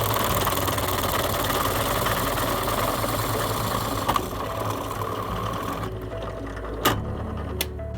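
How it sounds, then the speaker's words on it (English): Steady, loud whooshing drone of two electric fans and a computer fan at full speed, running continuously, with a couple of faint clicks near the end. "I've got 2 fans on and my computer fan is ramped all the way up"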